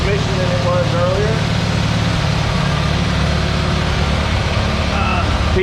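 An International Harvester 140 tractor engine runs at a steady idle with a loud, constant, low rumble close by, and a voice talks over it.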